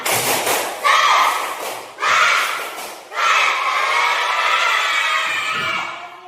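A group in an Indonesian teacher training session performs a rhythmic tepuk semangat clapping chant in loud repeated bursts with short pauses between, voices and claps combining into a lively group rhythm.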